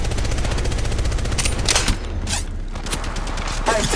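Rapid automatic gunfire in the mobile battle-royale game Apex Legends Mobile, loud, dense bursts of shots rattling almost continuously with brief lulls between volleys.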